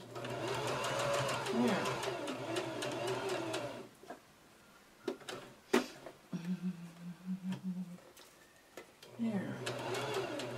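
A sewing machine stitching a kawandi quilt, rapid whirring bursts of stitching that stop and restart, with short pauses and a voice speaking briefly between runs.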